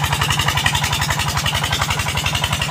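A Peter engine water pump runs close by, pumping water out into an orchard with a steady, fast, even chugging beat and no pauses.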